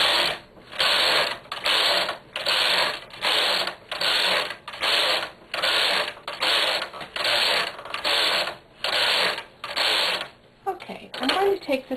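A knitting machine runs a few rows at a loose tension while making latched ribbing: about fourteen loud, even carriage passes in a steady rhythm, each a rattling mechanical sweep, ending with faint movement and a brief voice.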